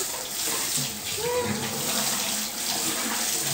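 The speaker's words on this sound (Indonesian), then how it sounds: "Dan sekalian cuci kaki nih." Water runs steadily from a tap as feet are washed, a loud continuous close-up gush with slight splashing variation throughout.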